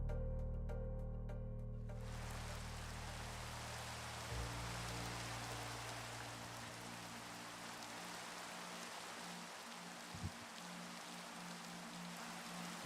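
Steady Minecraft rain hisses as an even, soft wash of noise, with a low hum and a faint thump beneath it.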